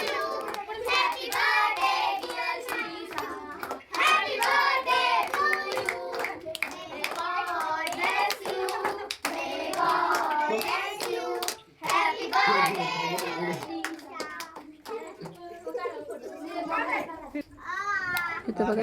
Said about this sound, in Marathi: इथं बघा ते पण सगळ्यांचं बघून टाळ्या वाजवायला लागलेली आहे.